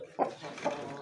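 A young black aseel rooster gives two short, close clucks about half a second apart in a quiet pen.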